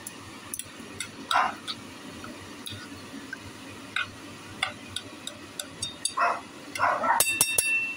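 A few sharp dog barks ring out at intervals, fairly close, over a low background hum with occasional clicks and a scuffling noise near the end.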